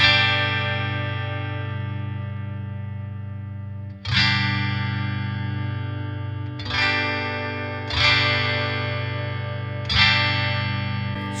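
Line 6 JTV-69S Variax guitar on its acoustic model, played alone: a sustained strummed chord rings out, followed by four fresh strums at uneven intervals, each bright attack decaying slowly.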